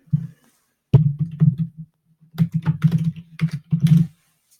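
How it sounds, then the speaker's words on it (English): Keys clatter on a computer keyboard while a Google Calendar entry is typed, close and crisp, in short bursts of rapid keystrokes separated by pauses; no talking. "I'll just type in"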